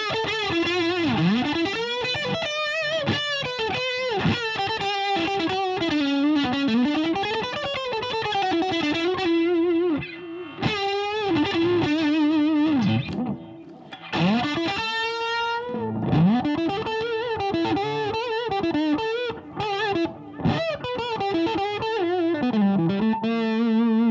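Electric guitar played through a Boss OD-3 overdrive pedal, mildly driven bending single-note lines and chords with sustained notes and a few short pauses, loud and close with no talking.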